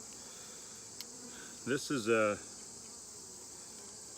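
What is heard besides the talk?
honey bees buzzing in an open hive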